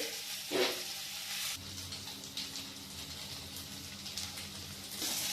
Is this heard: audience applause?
no